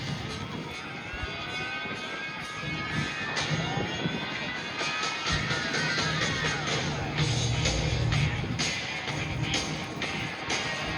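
Edge 540 aerobatic airplane performing at an airshow, its engine snarling and changing pitch as it passes, with crowd noise and a faint announcer voice underneath.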